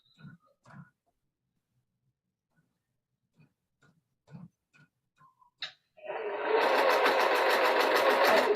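Sewing machine stitching quilt pieces together, starting after scattered soft handling clicks and thumps and running in a fast, steady, loud mechanical rattle to the end.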